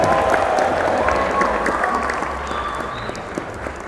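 An audience applauding a student named Fadil at a live Islamic lecture, a dense, loud wash of clapping that fades slightly toward the end.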